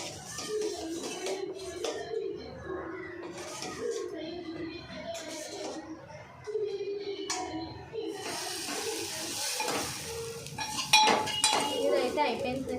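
Boiling milk being stirred in a pot for a sweet dish, a spoon scraping and clinking against the metal over steady bubbling, with a person talking throughout.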